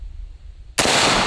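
A 5.56 rifle fires a single loud, sharp shot into a soda-filled pumpkin outdoors, the blast cutting in abruptly after a quiet stretch and ringing out broadly.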